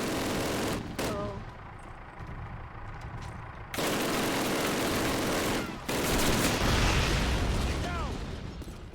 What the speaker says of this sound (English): I don't know where they're shooting at.